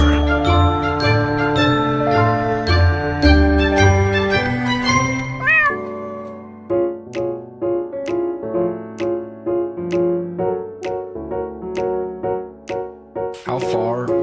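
A cat meows in a series of short, repeated calls, with tinkling bell-like jingles layered over a musical backdrop, loud and close, each meow separated by brief gaps.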